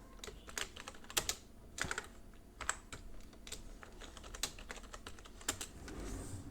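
Someone types a file name on a computer keyboard, producing an irregular run of sharp key clicks at close range, fairly quiet with no talk.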